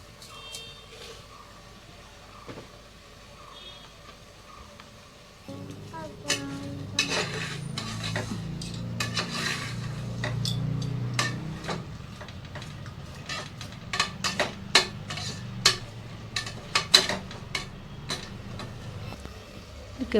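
Spice paste for chicken palav frying and being stirred in a pan, a steady low sizzle rising partway through with scattered scrapes and clinks of a spoon against the metal, close and fairly quiet.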